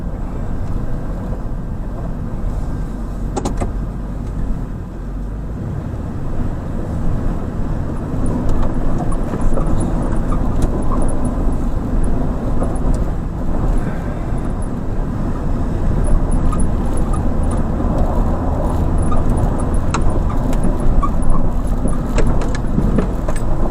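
An old truck that sat for years drives along with a steady engine drone and road rumble from inside the cab, with some light rattles and jingling over it.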